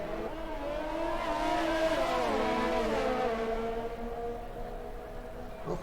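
A Formula 1 car drifting through the Monaco street circuit in a racing video game, its high engine whine rising and sliding in pitch as it revs, loud and continuous with no talk over it.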